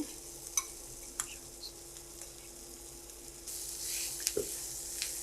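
Cooked crumbled beef is stirred with sautéed onion in a pan, quiet scraping strokes and light clicks over a faint low sizzle that grows louder near the end.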